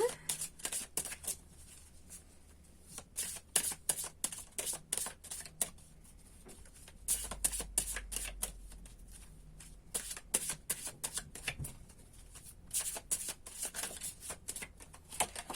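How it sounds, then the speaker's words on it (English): Repeated crisp riffling and slapping of a tarot deck being shuffled, in bursts with short pauses, close up, with no talking. "So let's shuffle a little bit more."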